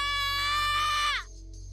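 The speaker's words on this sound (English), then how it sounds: "Yuni let out a strange scream," Yuni, a character in the Remember11 game, lets out a strange, high sustained scream that holds steady and then drops off abruptly, loud and close, followed by a faint quiet tone.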